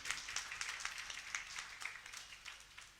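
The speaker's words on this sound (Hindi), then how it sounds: "बहुत जोरदार तालियों के माध्यम से भाई साहब का स्वागत कीजिए" Faint, scattered clapping from an audience welcoming a guest at an evening religious programme, the hand claps sounding distant and thin against a quiet room.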